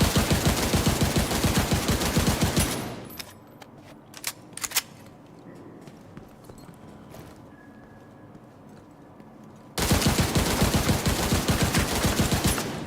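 Assault rifle fire in The Division 2, loud rapid automatic bursts that fill the opening seconds, drop to a quieter stretch with a few scattered shots, then resume as sustained heavy fire at the end.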